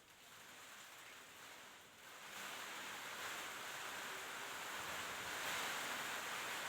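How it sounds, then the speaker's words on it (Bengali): Kalbaishakhi storm wind and rain roar outside a house as a faint, steady wash of noise that swells slightly partway through, heard from indoors with no voices. "দেখেন কালবৈশাখী ঝড়ের কী অবস্থা পরিণত।"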